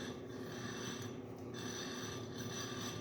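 A part on a general kinetic water ram is turned out with an Allen key, giving a steady metallic rasping and ratcheting scrape that runs continuously and close by, with no talk.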